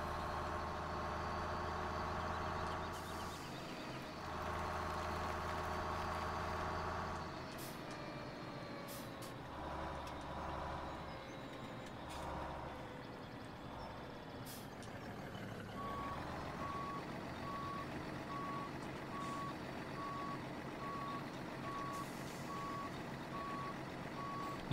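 Trucks in Farming Simulator 17 at a logging site, steady engine rumble with repeated reversing beeps, hissing air brakes and idling, continuous and fairly close, no talk heard.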